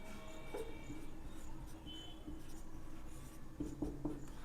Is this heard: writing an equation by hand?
yes